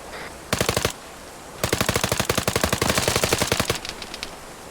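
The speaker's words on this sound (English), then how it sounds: "Shots out west." Automatic weapon fire in the military shooter ArmA 3, with two sharp rapid bursts, the second long and sustained, followed by a few fainter shots, loud and close with no talk.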